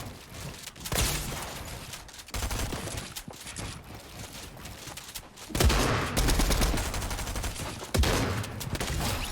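A heavy shotgun fires in a video game: repeated loud, booming blasts in quick succession over a constant busy game background, with no talk.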